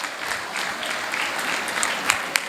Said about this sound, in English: please give a big round of applause for the Ayamma